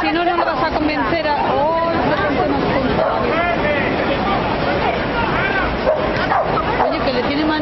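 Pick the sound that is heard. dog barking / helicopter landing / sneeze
dog barking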